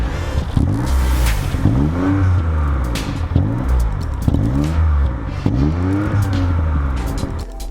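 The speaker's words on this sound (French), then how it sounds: "Le moteur thermique est assez silencieux, même si on entend l'échappement qui ronronne un tant soit peu" Exhaust of a 2017 MINI Countryman S E-ALL4 hybrid purring while driving, repeated rising and falling engine sweeps as it accelerates and shifts, close and steady with no talk over it.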